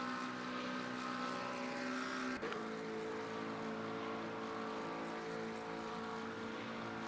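Le Mans Ultimate race car engine at full throttle in sixth gear on a long Daytona straight, a steady, loud droning whine that dips briefly with a shift and then holds on.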